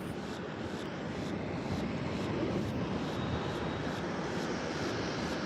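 A distant airliner on final approach to Tampa International Airport gives a steady, broad engine roar that holds evenly throughout, with no voices over it.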